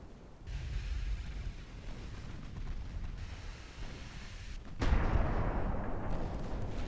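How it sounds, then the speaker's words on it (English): Naval gunfire from warships in the Ultimate Admiral Dreadnoughts game during an armed convoy attack, a sustained low rumbling barrage that surges into a louder boom near the end and keeps roaring. "Detonation."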